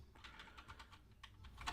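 A command being typed on a computer keyboard at a Linux terminal, a short quick sequence of soft, close keystrokes with no talking.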